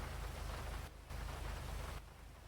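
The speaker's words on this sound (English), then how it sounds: "This is rain, dude." Steady rain pouring in a GTA roleplay game, a dense even hiss that fills the scene with two short dips where it briefly thins out.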